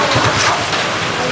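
Heavy rain falls outdoors as a loud, dense, steady hiss over a brief moment, with a faint low rumble beneath.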